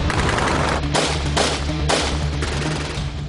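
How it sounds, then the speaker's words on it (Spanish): Sustained machine gun fire from a military unit during a raid, dense rapid bursts rolling continuously with several louder volleys, loud and close with no talk. "Poco después abren fuego."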